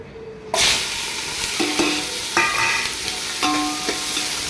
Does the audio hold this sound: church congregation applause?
no